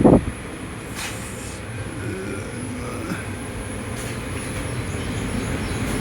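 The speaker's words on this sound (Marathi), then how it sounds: "ट्रेन जागोजागी थांबते बघा" A steady low rumble of a train rolling along rails fills the clip, moderately loud and constant, with a brief clatter at the very start.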